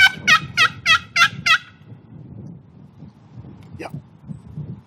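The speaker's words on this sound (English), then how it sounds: "Oh, that's cool. The gobbler." A wild turkey gobbler calls on public land during a spring hunt, six loud rapid gobble notes in a burst, then quieter wind and a faint distant chirp.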